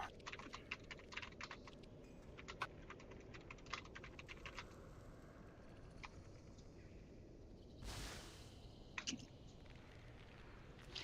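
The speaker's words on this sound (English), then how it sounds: "Sorry, I was typing." Faint, quick clicking of keys on a computer keyboard during a World of Warcraft raid, in irregular bursts over a low steady background hum, with one brief louder noise midway.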